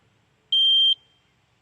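A metal detector scanning a utility-pole log near embedded screws gives a high, steady electronic beep, one held tone about half a second long, then the start of another, in an otherwise quiet setting.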